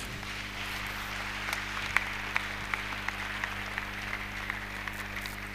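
A church congregation applauds the Lord during a sermon, a steady wash of clapping with a few sharper claps poking through, at a moderate distance over a low constant hum.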